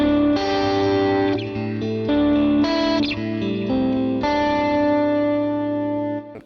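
Electric guitar through a Vox-style amp tone on a Line 6 Helix with the treble turned up, ringing bright chords with chorus and echo, loud and steady, alone, ending with a short decay.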